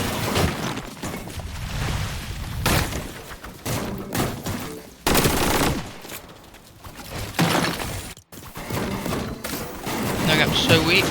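Fortnite gunfire rattles in repeated loud bursts and volleys with sharp breaking impacts, mixed with game effects and a voice talking at times.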